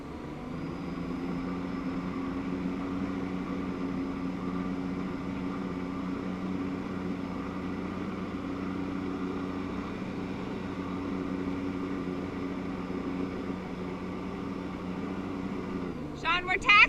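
A watercraft engine powers a flyboard during a training session, holding a steady low hum at taxiing speed for a long stretch, with voices talking over it and a brief burst of louder noise at the very end.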